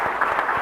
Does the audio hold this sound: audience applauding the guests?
yes